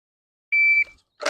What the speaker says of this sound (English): That second beep you're hearing is a 5-second par time that I have for dry fire.